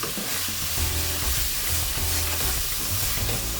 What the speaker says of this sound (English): And saute this for about 2 minutes until the oil oozes out.